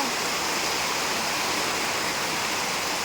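Heavy rain pours down on a tin roof in a dense, unbroken roar, loud and constant throughout.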